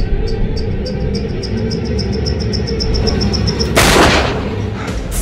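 A gunshot in the video game Until Dawn fires once as a loud, sharp burst, mid-clip, over a steady game ambience of dense chirping insects and a repeating high tick, with no talking.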